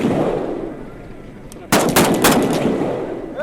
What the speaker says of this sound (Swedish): Då kommer ni få prova att skjuta med våra vapen.